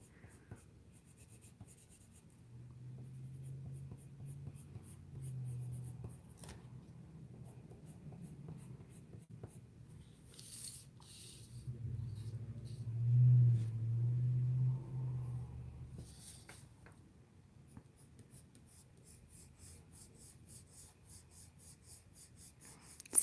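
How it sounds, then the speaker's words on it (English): Prismacolor colored pencil strokes rub and scratch steadily across paper while coloring and burnishing a figure's hair, a soft continuous scraping that swells in the middle, close and quiet with no talk. "Add this highlight color and then go over it and burnish with the mid-tone."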